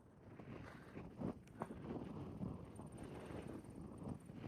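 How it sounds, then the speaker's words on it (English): Faint, low wind buffets the microphone in uneven gusts, a soft rumbling roar with occasional thumps. "It's a little bit windy, you can hear it."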